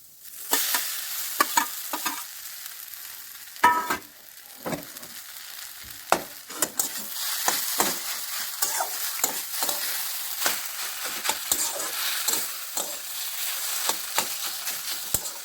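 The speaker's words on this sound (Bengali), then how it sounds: "এভাবে পুরো মশলাটা আলুর সাথে আমি মিক্স করে নেব।" Grated potatoes fried and stirred with masala in a hot pan: a steady close sizzle broken by repeated scraping strokes of the spoon, with no voices.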